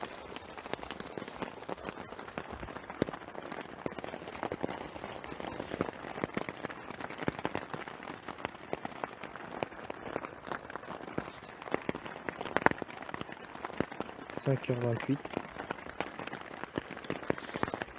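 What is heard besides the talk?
rain falling on tarp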